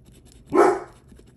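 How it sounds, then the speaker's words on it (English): A dog gives a single loud, sharp bark indoors, close by, with quiet room sound around it. "He sounds like a bad dog, doesn't he?"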